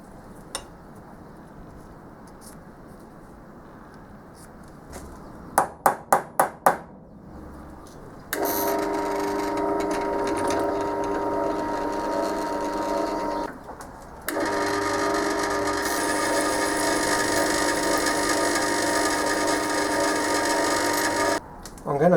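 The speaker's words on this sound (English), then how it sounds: "Now to drill a hole." Drill boring a hole in a workshop while building a lathe tailstock from steel and aluminium plate, with a few sharp knocks, then two sustained loud whirring stretches separated by a short pause.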